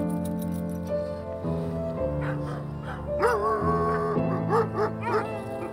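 Alaskan sled dogs, endurance working dogs, bark and yip together in an excited chorus, with overlapping high whines and yelps rising and falling at close to moderate distance.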